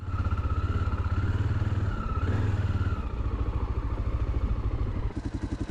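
A Yamaha XT motorcycle rides over motocross terrain with bumps and turns, its mid-pitched engine droning steadily and close, with throttle changes and a rougher burst near the end.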